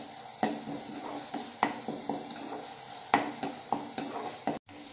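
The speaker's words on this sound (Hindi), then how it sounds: "अदरक लहसुन को भी अच्छे से पकने देंगे।" Ginger garlic paste cooking in a pan for rajma, with a steady sizzle underneath and a series of sharp spoon taps and scrapes against the metal as it is stirred, close up and without speech.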